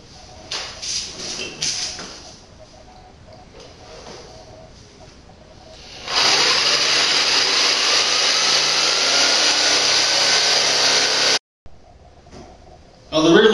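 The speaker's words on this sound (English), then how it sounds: "Now it's just a matter of taking our jigsaw and cutting around the blue." A jigsaw cuts through a golf cart body panel to make openings for rear lights: a loud, steady buzzing rasp runs for about five seconds after quieter handling noise, then stops abruptly.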